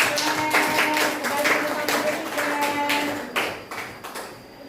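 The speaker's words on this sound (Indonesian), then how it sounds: "beri tepuk tangan untuk" Children applauding in a classroom, brisk uneven clapping with sharp taps throughout, a sustained tone running underneath, tapering toward the end.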